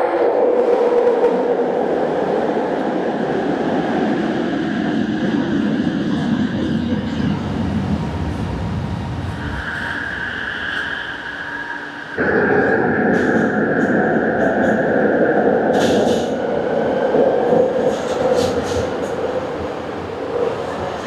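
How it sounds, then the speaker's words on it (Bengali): A metro train in Kuala Lumpur, Malaysia, rolls in with a loud rising rumble and steady whine, falls briefly quieter, then resumes a strong continuous riding roar with clattering and faint chimes. "এই ট্র্যাক ধরেই আমাদের ট্রেন আসবে।"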